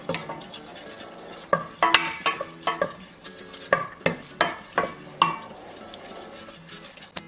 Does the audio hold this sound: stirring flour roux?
yes